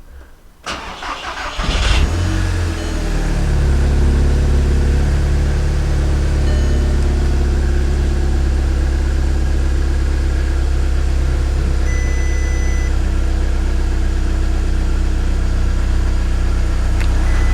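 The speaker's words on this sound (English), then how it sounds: "We're going to start the car up." A car engine cranks and catches about two seconds in, then settles into a steady, loud idle with a continuous low rumble that lasts to the end, with no talking over it.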